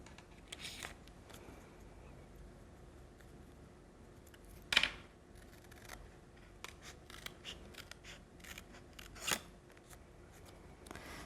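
Scissors cut round a paper card image for a Bonfire Night card, making soft, close snipping and rustling with a couple of sharper snips standing out over quiet paper handling.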